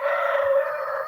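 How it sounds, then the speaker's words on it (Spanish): A rooster crows once from a neighbouring property, a sustained harmonic call lasting about a second at steady moderate loudness, heard alone with no talk. "Está un gallo por ahí."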